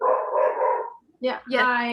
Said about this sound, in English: I have a few dogs. You might hear them right now.